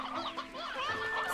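Sea hens from the video game Slime Rancher 2 cluck in a rapid, chattering run of chicken-like calls, close and fairly loud, with a faint electronic game tone humming steadily underneath.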